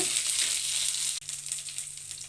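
Green chilies, dried red chilies and curry leaves sautéing in oil for sago upma, a dense close sizzle that cuts out briefly midway and then resumes, with no speech.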